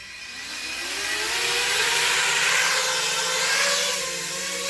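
Quadcopter motors spun with reversed props as the drone lifts off, a loud close whine that climbs and swells into a steady buzzing roar, then eases slightly.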